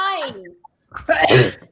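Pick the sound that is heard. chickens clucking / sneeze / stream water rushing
sneeze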